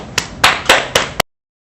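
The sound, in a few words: applause welcoming a speaker to the forum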